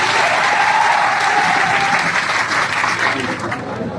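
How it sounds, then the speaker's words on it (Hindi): A crowd of people applauds loudly and steadily for a police officer at a gathering, the sustained clapping filling the whole stretch before tapering slightly at the end. "आप लोग एक बार इनके लिए जोर से ताली बजा दें।"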